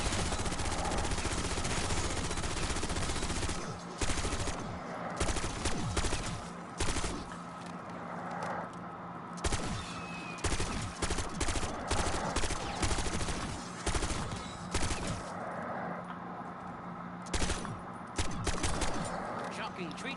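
Dense, repeated automatic gunfire from the video game Call of Duty Black Ops 6 Zombies, with bursts going on steadily over game background noise.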